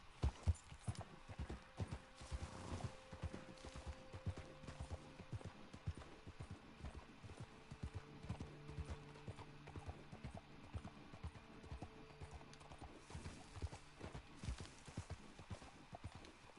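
Horse hooves clip-clop steadily at a walking pace in the Red Dead Online video game, a continuous rhythmic patter of hoofbeats with faint ambient game sounds and occasional tonal hums underneath.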